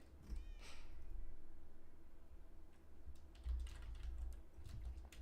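Keys clatter on a computer keyboard in a home gaming setup, a quiet, irregular run of clicks over a steady background hum.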